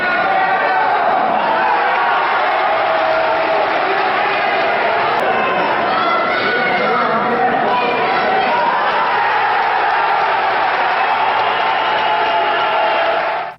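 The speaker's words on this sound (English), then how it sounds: "the crowd cheers as he gets the full mount" A dense, steady roar of an MMA fight crowd cheering loudly throughout as a fighter takes full mount, continuous and close with no pauses until an abrupt cutoff.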